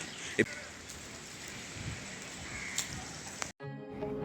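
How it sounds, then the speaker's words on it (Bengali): Rain falls with wind over a wide flooded river where trees are going under, a steady soft hiss with a crow cawing once, then it cuts off abruptly. "জলও বাড়ছে, বাতাসও বাড়ছে, সঙ্গে চলছে বৃষ্টি।"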